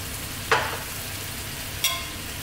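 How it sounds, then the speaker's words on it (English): Chicken sizzling steadily in a hot pan as soy sauce is added, a constant frying hiss with two brief sharper spits of liquid hitting the metal, and no talk. "We're now going to add some more soy, about the same again."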